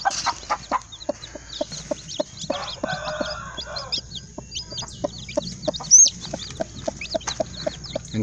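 Chinese breed chickens cluck steadily close by, with short repeated calls and occasional squawks over a low farmyard background.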